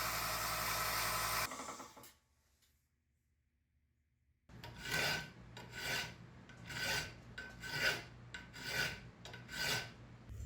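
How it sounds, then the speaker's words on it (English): A forged steel knife blade being filed: after a loud rushing stretch and a short near-silence, a series of rhythmic rasping file strokes, close and evenly spaced. "with the forging complete, I'm going to get into file work and grinding"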